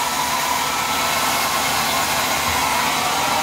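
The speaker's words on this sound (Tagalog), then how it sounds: "Blower na, Dre" A hair dryer blows steadily and loudly, a constant broadband whoosh with no breaks and no voices.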